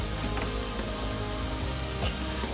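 Chicken flipped in a cast iron skillet on a Weber charcoal grill with a grill grate, giving a steady, dense sizzle and crackle throughout, close and loud with no talking.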